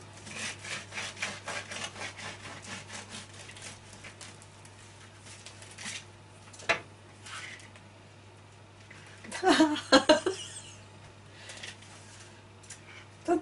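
A knife saws through a baked carrot and grain bread roll with quiet, steady scraping strokes, then a few louder crunchy crackles of crust toward the end, close by.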